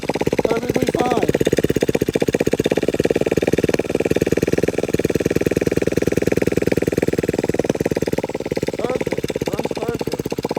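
A four-wheeler ATV engine runs at a fast, steady idle after a carburetor replacement, its exhaust pulses thrumming evenly and close with a slight rise and fall in pace.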